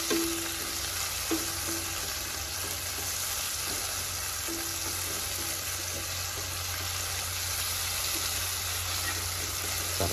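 Shrimp paste (alamang) sautéing in a pan gives a steady, continuous sizzle throughout, with a low background hum and occasional faint clinks.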